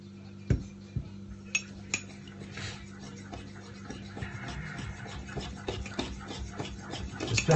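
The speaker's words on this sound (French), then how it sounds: "Une fourchette pour remuer." Fork stirring milk into corn dog batter in a bowl, making close, irregular clinks and scraping taps against the dish, with no talking.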